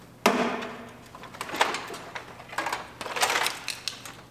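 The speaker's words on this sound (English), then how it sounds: "Now we can unbolt the headlight." Close metallic clunks, rasps and short ratcheting bursts as bolts holding the headlight of a totaled 2019 GMC Yukon Denali are undone, arriving in a few uneven clusters with no talking.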